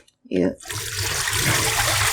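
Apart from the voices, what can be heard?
running tap water washing cabbage for kimchi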